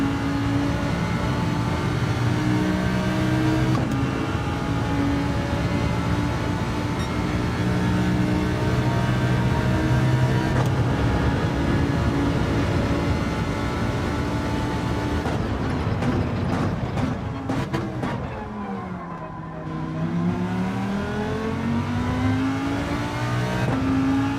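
Race car engine in Gran Turismo 7 droning loudly at high revs, its pitch climbing and dropping through several gear changes as it pulls out of corners, steady and close with no talking.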